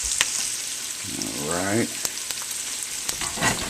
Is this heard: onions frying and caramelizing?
yes